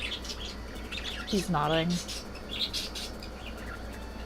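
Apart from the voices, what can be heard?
pet bird squawking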